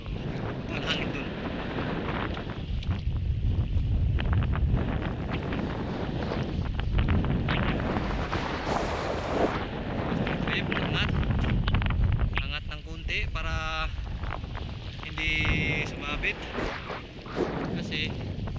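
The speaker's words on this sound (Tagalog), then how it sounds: "Grabe naman yung hangin," Strong wind on a shoreline during shore casting in the Philippines, roaring and buffeting the microphone in continuous gusts, with people talking at times over it.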